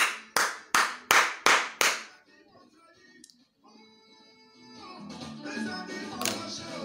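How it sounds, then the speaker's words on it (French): About six sharp, evenly spaced claps ring out close and loud, followed by a quieter stretch and then faint tonal music with background murmur at a Lille event where a crowd applauds an artist. "Applaudissez pour lui."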